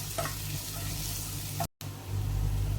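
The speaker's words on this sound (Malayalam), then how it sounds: "ചെറിയുള്ളി നല്ല ഗോൾഡൻ കളർ ആകുന്നത് വരെ നമുക്ക് വഴറ്റിയെടുക്കാം" Shallots sautéing in oil until golden, a dense steady sizzle close up with a brief dropout before the frying carries on slightly louder.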